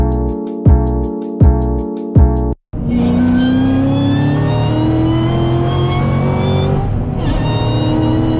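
A Corvette Z06 with a modified supercharger built for a much louder whine gives three sharp revs, cuts out briefly, then pulls a long, loud, rising supercharger whine over engine roar at close range.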